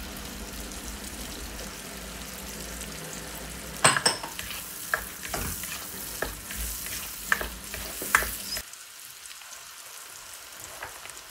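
Garlic frying in a pan for beef kaldereta, a steady broadband sizzle with scattered stirring clatters and scrapes, close and alone, cutting off sharply near the end.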